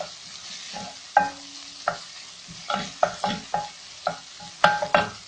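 Grated tomatoes fry in a pan over a low sizzle, broken by a series of sharp utensil clinks and scrapes as they are stirred, close and moderately loud.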